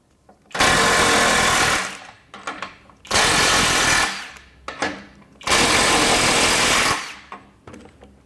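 A FLEX FX1471 cordless impact wrench runs in reverse at 500 ft-lbs in speed mode 3 on a full battery, firing three loud, close hammering bursts of about one and a half seconds each, separated by brief clicks and pauses.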